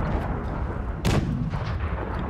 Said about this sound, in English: you definitely know when a tank explodes